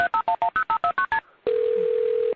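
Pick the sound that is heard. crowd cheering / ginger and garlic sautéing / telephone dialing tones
telephone dialing tones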